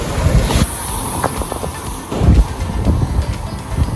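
Strong sea waves at Puka Beach on Boracay churn and wash under gusty wind buffeting the microphone, a rough, continuous surf noise with uneven surges.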